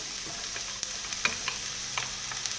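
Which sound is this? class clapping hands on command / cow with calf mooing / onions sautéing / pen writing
onions sautéing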